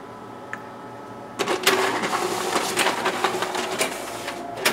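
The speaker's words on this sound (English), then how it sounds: "now we'll go ahead and test out the document feeder as well" Xerox WorkCentre 7545 copier running its document feeder and double stapling test copies: a quiet start, then a sudden loud onset of dense mechanical whirring and clicking with sharp repeated clacks, steady close up to the end.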